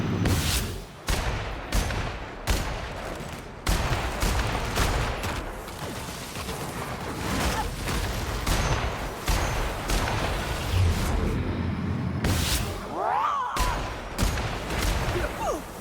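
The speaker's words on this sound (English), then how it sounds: "I just have 37 shots left with that ratatatata weapon." Automatic weapon fire in The Outer Worlds comes as loud, dense rapid bursts that repeat in quick succession, with brief gaps between volleys and a swooshing effect near the end.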